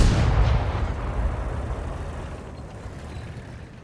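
An artillery shell strikes a tank in a World of Tanks–style video game match with an AMX ELC bis, heard as a loud, close boom that decays into a long rumbling tail; no talking.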